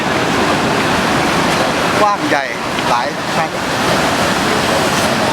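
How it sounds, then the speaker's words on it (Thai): Niagara Falls, seen from the American side, produces a loud continuous roar of falling water like broad surf, with someone speaking briefly over it. "น้ำตกตรงนี้เรียกว่าน้ำตกในแองการา สวยงามมากครับ"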